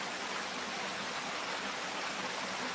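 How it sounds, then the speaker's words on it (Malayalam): Water rushing down from overhead makes a loud, continuous broadband roar like a stream or waterfall, steady throughout with no voices. "നമ്മുടെ തലയുടെ മുകളിൽ കൂടി വെള്ളം ഒഴുകി വരുന്ന പോലെ ഇല്ലേ?"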